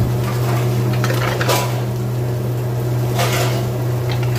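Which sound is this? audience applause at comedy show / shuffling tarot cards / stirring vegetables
stirring vegetables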